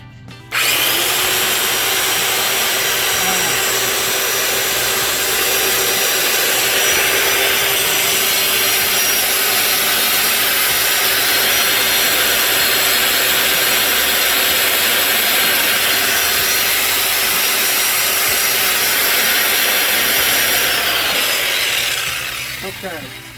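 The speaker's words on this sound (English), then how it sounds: "This crankshaft polishing lathe is ABS Products." An ABS Products crankshaft polishing lathe works a 400 Mopar crankshaft, giving a loud, steady abrasive hiss and whir with a faint tonal hum that starts abruptly and runs unbroken for over twenty seconds before tapering off.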